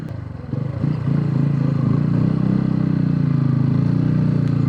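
A motorcycle engine labours in low gear on the road from Sindhuli toward Kathmandu via Hetauda, a close, steady throbbing drone that builds after a rougher start and holds evenly.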